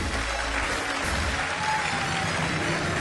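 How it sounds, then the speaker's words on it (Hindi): Audience applause at a live talk, a dense, continuous patter of clapping filling the hall for about three seconds, fairly loud and without speech on top. "अब रुक जाओ, ताली बजाने वाली बात नहीं है।"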